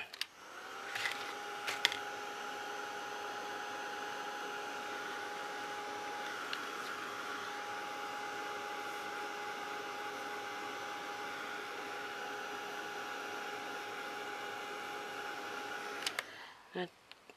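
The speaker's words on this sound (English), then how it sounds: "Just take the heat gun to that." A heat gun blows steadily for about fifteen seconds during a small craft project, a constant airy whoosh with a whining tone, with a few brief clicks near the start and end.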